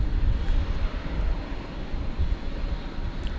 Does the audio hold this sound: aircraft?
yes